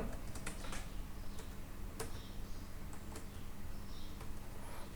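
Fast, steady typing on a computer keyboard runs throughout, with soft, close keystroke clicks over a quiet background hum.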